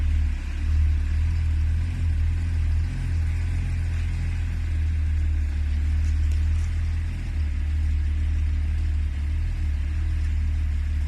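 A 1989 Ford Granada Scorpio 2.9i Mk3 idling steadily, a deep continuous low rumble heard close up for about eleven seconds with no voices over it.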